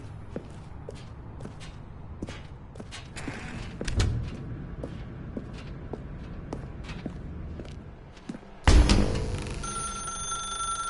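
A telephone rings in The Stanley Parable video game, its bright electronic tone starting partway through after a run of soft, scattered footsteps and shuffles, then carrying on loudly to the end.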